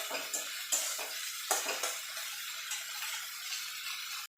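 Crushed ginger and garlic stirred in a hot pan for an egg curry, a quiet sizzle with several scraping utensil strokes, ending in a sudden cutoff.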